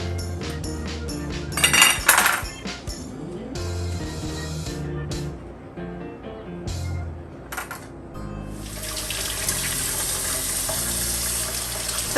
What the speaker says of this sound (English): We're just washing the excess salt off the eggplants.